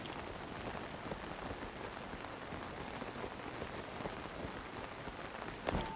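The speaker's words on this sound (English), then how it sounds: "There's actually the drip sound for when the rain lands on the paraglider." Steady rain pattering onto a paraglider canopy in The Legend of Zelda: Tears of the Kingdom, a dense, even hiss of soft drops that goes on throughout, with one slightly louder burst at the very end.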